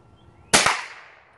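A single sharp gunshot cracks close by at a target range, its report sudden and loud, then decaying over about half a second into quiet.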